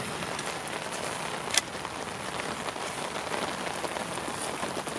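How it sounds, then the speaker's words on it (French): Steady rain falls during winter fishing, a soft even patter on surfaces throughout with one brief tap partway through and no voices. "Continue à pleuvoir."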